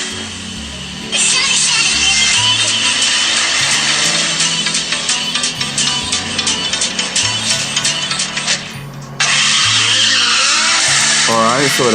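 Real Racing 3 played on a smartphone: a loud racing-car engine drone with squealing tire skids through the race, dropping briefly before the engine surges again.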